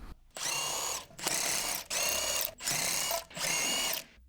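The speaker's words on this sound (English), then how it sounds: "Use the large 18mm deep socket with the short extension and the impact wrench to remove the lug nuts." Impact wrench with an 18mm deep socket and short extension removing lug nuts on a 2012-2017 Jeep Wrangler JK, five loud, close bursts of harsh mechanical rattling, each about half a second to a second, separated by brief gaps.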